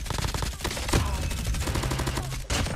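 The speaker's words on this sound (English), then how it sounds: "Bro, that sounds like a proper gun." Rapid automatic fire from an AK117 rifle in COD Mobile, dense bursts of shots rattling almost continuously with a couple of brief pauses.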